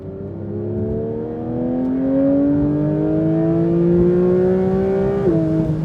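A Manthey Racing Porsche 911 GT3 engine, driven on a motorway with its exhaust not switched on, revs steadily and loudly, its pitch climbing smoothly for about five seconds toward 9,000 RPM before dropping off sharply as it lets go near the end.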